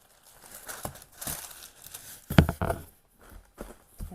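Paper insert inside a handbag's packaging being handled and crinkled during an unboxing, soft close rustles and crinkles coming in short bursts, with one sharper crackle near the middle and no voice heard.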